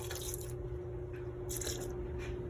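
Vegetables are pushed around by hand in a bowl of water mixed with Thieves fruit and veggie wash, giving close, soft squishing and sloshing splashes in a few bursts with no talking.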